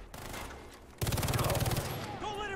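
Rapid automatic gunfire in the video game Far Cry 3, a dense burst of shots directed at the player that starts abruptly and rattles on loudly for about a second, followed by quieter sounds.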